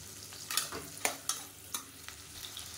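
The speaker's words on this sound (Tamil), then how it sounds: "இப்போ சின்ன வெங்காயம் லேசாக வதங்கிடுச்சு" Small onions sautéing in oil in a pan, a low sizzle broken by about five distinct scraping stir strokes, near and moderately quiet, no talking.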